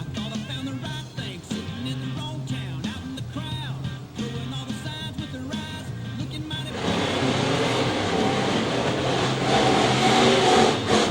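Monster truck engines rev at the starting line, rough throttle blips at first, then a sustained, louder roar as the trucks take off, with some voice underneath.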